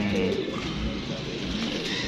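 Pigeon kept by a fancier cooing, soft low coos close by under a noisy outdoor background, with faint voices in the surroundings.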